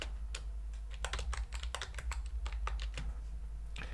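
A username and password being entered on a computer keyboard, with quick, close keystrokes tapping in short uneven bursts over a low steady hum.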